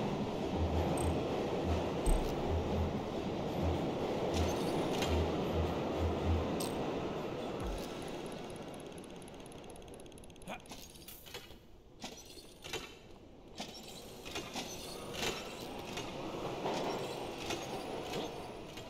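A metro train rolls along inside The Precinct, wheels clacking steadily and occasionally squealing on the rails, with a low rumble and brief sharp rattles as the ride continues, no talking.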